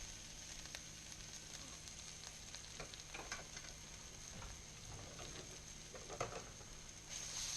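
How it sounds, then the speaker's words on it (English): Garlic and ginger fry in oil in a pan over low heat, a steady soft sizzle with faint scattered crackles and stirring clicks, no voices. "Now it's time to turn this heat down on this pan. And we're going to go ahead and slide in the garlic and the ginger."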